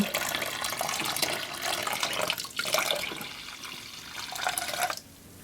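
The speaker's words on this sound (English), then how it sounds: "I have some warm water in here and I'm gonna pour it over" Warm water pours steadily over bath fizzies with a gushing, splashing rush that briefly dips, resumes, then cuts off near the end.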